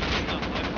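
Rapid gunfire from the survival video game Rust rattles in a dense, continuous burst, loud and close, with no pauses across the short stretch.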